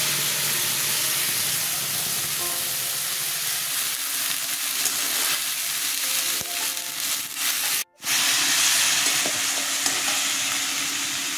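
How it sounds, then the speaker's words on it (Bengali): Ginger, onion, chili and garlic sauté in a pan for a soybean curry, with a continuous close sizzle, scraping stir strokes and a brief drop-out near the end. "আদা পেঁয়াজ লঙ্কা রসুন কষানো হয়ে গেছে"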